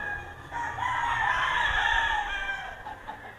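A gamefowl rooster at Firebird Game Farm lets out one long, drawn-out crow that swells and fades over a few seconds, close by and clear above faint farmyard background.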